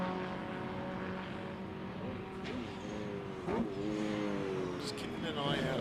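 A TVR racing car drives past on the track during a classic race meeting morning session, a moderate engine roar that swells and fades under a commentator's continuous talk.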